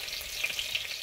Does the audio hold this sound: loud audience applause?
no